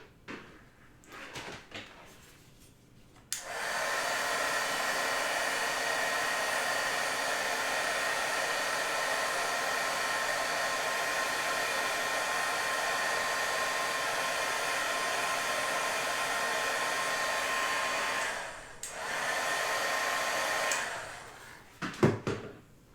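A heat tool melting clear embossing powder on a card blows with a loud, steady whooshing hum for about fifteen seconds, preceded and followed by small handling clicks and taps nearby.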